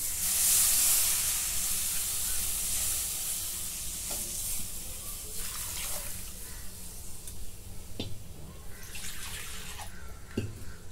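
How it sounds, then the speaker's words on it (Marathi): Buttermilk poured into a hot pan for kadhi sets off a loud hiss that quickly settles into a softer, steady sizzle with faint stirring clicks. "आता हे ताक ओतून घेते."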